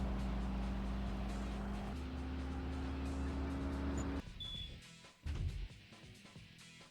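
A car engine hums loudly in a racing video game, then cuts off abruptly. Short bursts of skidding and engine noise follow, more uneven and quieter, with no voices.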